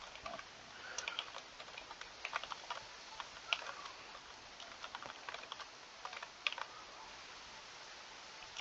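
Quiet, irregular clicks of a computer keyboard being typed on, near but soft, with short bursts and pauses and no speech.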